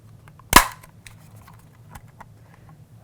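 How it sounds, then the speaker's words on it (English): A single sharp plastic snap as a part of a 1986 Hasbro G.I. Joe Cobra STUN toy clicks into place, close and crisp, followed by faint handling ticks in a quiet room. "when I hear that Hasbro plastic snap into place"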